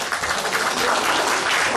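The audience at a live band concert at Biz Hall in 2020 gives warm, sustained applause after a band member is introduced, with even, dense clapping throughout.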